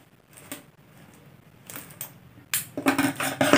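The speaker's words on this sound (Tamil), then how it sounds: "இப்போ இந்த ஒயரை நம்ம கட் பண்ணிடலாம்" Craft plastic wire for a basket being snipped and handled, with faint rustles and small clicks at first, then a louder burst of crinkly rattling and cutting near the end, no talking.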